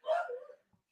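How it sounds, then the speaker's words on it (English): A dog gives a single short bark, close and moderately loud, lasting about half a second before quiet. "Excuse my dog."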